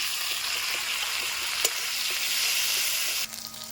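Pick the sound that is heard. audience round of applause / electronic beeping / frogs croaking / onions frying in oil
onions frying in oil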